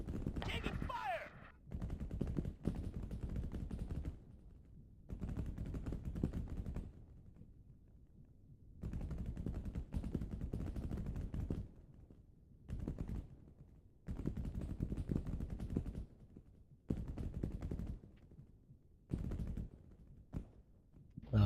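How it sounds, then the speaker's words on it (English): Bursts of automatic gunfire in the military shooter ARMA 3 during an airport attack, repeated volleys separated by short pauses, fairly loud and close. "Taking fire."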